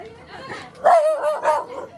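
A dog gives a couple of sharp barks and yips up close during a crowded village gathering in Konkan, with people talking around it.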